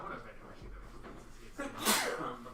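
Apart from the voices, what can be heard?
sneeze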